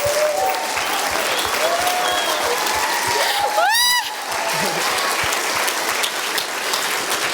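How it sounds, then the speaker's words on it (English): Loud, continuous applause from an audience at an entrepreneur leadership event, with a bright rising whistle cutting through midway, dense and sustained from start to finish. "applause."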